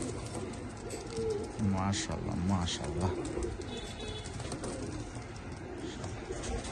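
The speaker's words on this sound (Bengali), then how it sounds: "এক পেয়ার সালারা টেডি কবুতর" A pair of Pakistani Sialara teddy pigeons coo in a few soft, throaty bursts near the middle, under someone talking, with faint background noise.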